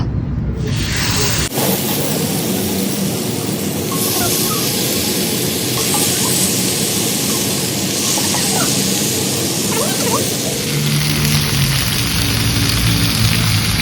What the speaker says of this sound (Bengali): ভালোই গরম হয়েছে এখন চিকেন দিয়ে দেয়